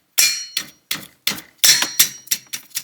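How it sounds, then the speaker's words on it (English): A wrench clangs sharply while 14 mm bolts are loosened on a Subaru BRZ during rear wheel stud work. About eight bright metallic strikes ring out close and loud at an uneven pace, each decaying quickly, with no talking. "now we're going to take these bolts off here"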